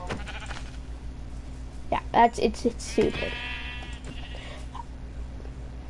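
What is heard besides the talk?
sheep bleating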